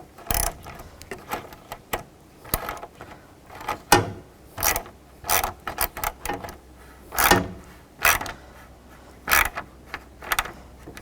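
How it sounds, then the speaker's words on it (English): Socket ratchet snugging down the side retainers of the grille on a 2002-2005 Chevrolet Trailblazer with a 12mm socket: repeated close, crisp clicking bursts in irregular short runs, with no talk. "And use these retainers on the side. Use a 12mm socket. And snug those down."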